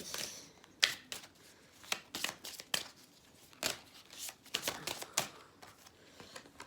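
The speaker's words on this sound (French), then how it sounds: "On va aller tirer les cartes avec l'oracle chakra du cœur" Oracle cards shuffled by hand in quick, papery riffles and flutters, close and quiet, with no talk.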